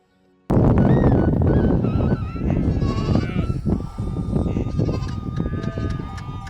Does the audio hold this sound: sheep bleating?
yes